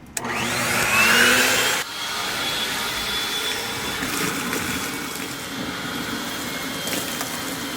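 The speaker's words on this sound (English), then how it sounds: "Now it's time to turn on the blower." A leaf-style blower forces air through pool plumbing via a skimmer adapter while winterizing a pool, giving a steady loud roar with gurgling, rushing water that dips briefly after the first two seconds, then continues evenly.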